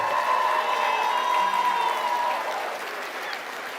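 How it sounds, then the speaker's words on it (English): A crowd at the North Idaho State Fair goat and swine showmanship finals applauds the show committee, with steady clapping that holds for several seconds and then eases slightly. "Can we give our show committee a big round of applause today?"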